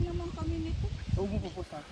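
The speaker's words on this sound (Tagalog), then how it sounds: "Grabe, daming ibon oh." Clucking chickens and other birds call outdoors in a busy, overlapping chorus, while close voices talk over them throughout.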